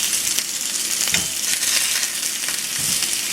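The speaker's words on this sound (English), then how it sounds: "Fry that side up." Fondant potatoes frying in a pan, the steady broadband sizzle of hot fat running unbroken throughout with a few soft clicks and scrapes, close and fairly loud, no talking.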